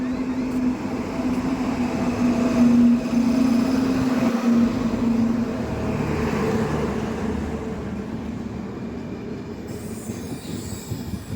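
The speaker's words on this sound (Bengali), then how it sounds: "ট্রেন চলে এসছে" A delayed late-night train pulls into a station, its rail cars rumbling loudly and steadily, a sustained wheel squeal sounding for the first several seconds before fading into continuous rolling noise.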